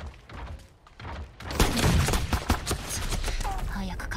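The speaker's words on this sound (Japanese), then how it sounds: "銃声が聞こえた。" Gunfire in the mecha battle game Super Mecha Champions, a burst of loud, sharp shots and thuds starting partway through and continuing densely amid other game effects.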